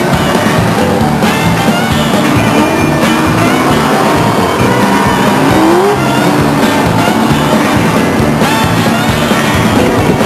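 The number 28 late model race car at a speedway, a loud continuous engine roar with a brief rising pitch sweep as it passes, amid dense track noise.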